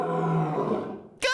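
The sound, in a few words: lion roaring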